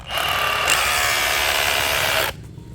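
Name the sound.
Bosch GBH187Li cordless rotary hammer drilling with 13 mm bit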